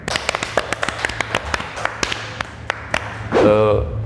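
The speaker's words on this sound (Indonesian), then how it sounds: "Boleh tepuk tangan tuh" A few people clap for an Indonesian band in a small talk-show setting, sharp, close, distinct claps at an uneven pace, followed near the end by a voice speaking.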